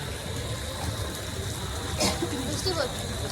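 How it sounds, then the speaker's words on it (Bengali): Light drizzle falling at night outside a beach resort, a soft continuous patter under a fairly steady hiss, with a few brighter splashes near the middle; people talk over the rain. "বৃষ্টিটা পড়ে যাচ্ছে মোটামুটি ঝিরঝির ঝিরঝির করে বৃষ্টিটা পড়ে যাচ্ছে"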